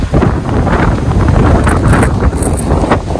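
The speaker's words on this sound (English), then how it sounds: "Oh, it's very, very windy today." Loud wind buffeting the microphone at Beau Vallon Beach, Seychelles, a constant rumbling roar with gusty surges throughout.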